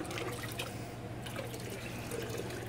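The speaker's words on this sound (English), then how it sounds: "drain out the water" Water drains steadily out of a gold pan holding dirt concentrates, making a continuous close trickling and splashing wash with no pauses and no talking.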